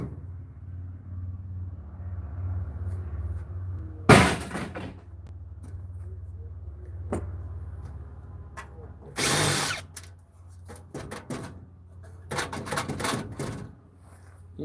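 A power drill drives screws in several short, loud bursts at uneven intervals, separated by quieter stretches with a low steady hum underneath.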